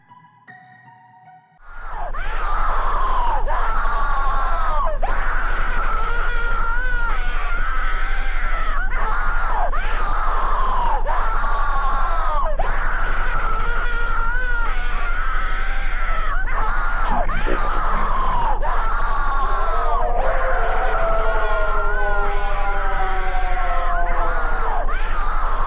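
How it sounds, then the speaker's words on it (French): Horrible, drawn-out screams from the Suicide Mouse creepypasta burst in after a quiet start and continue loud and relentless, wavering in pitch over a constant low hum. "il ne supporte plus ces cris horribles"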